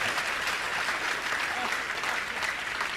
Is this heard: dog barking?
no